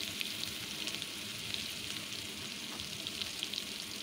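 Dry red chili and garlic paste fry in hot oil, giving a constant close sizzle with small crackling pops and faint stirring, no voices.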